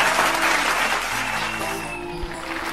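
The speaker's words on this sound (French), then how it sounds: "Acclamez très fort." Loud applause from a church congregation during a lively revival service at a tabernacle, sustained clapping filling the room for the whole stretch and easing off slightly toward the end.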